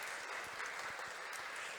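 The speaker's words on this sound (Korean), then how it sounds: "우리 김혜란 선생님께 다시 한번 큰 박수 부탁드립니다" An audience at a school food-allergy alternative-meal program report session gives a brief round of applause for a presenter. The clapping comes as a faint, steady wash.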